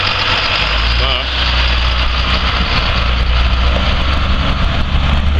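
A 2007 Blue Bird school bus with a C7 Cat engine and Allison transmission idles steadily and loudly up close, a constant low diesel rumble throughout.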